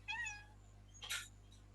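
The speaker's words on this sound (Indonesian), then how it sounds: "Kok ada suara meong itu?" A cat meows twice indoors, a clear rising-falling call followed by a sharper, brighter second meow, fairly close against a low steady hum.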